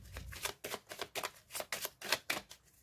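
A deck of tarot-style oracle cards being shuffled by hand for a reading, with quick, close, rhythmic riffling bursts repeating about every third of a second, fairly soft and with no talk.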